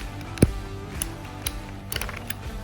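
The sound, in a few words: PVC pipe cutter cutting PVC pipe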